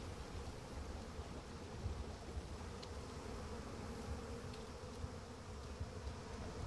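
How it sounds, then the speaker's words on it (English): Bees buzz in the turn-based strategy game Massive Chalice. The steady, faint drone continues without a break under quiet background hiss. "It looks like the bees move one square each turn in a somewhat random direction."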